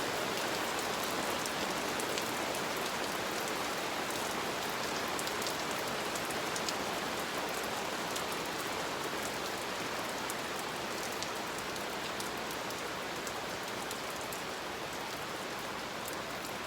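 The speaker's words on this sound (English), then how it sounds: "Listen to that beautiful rain. Look at it falling out there on the water." Rain pours down steadily onto open water, an even hiss of countless drops with occasional sharper patters, continuous and unbroken throughout.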